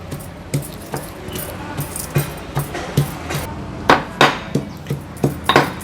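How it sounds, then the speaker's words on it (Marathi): Ginger, garlic and green chili are pounded in a metal mortar and pestle: repeated sharp thuds with metallic clinks in a steady rhythm, about two strikes per second, growing louder toward the end. "मी नॉर्मली ही भाजी करताना खलबत्त्यातच आलं लसूण चेचून घेते"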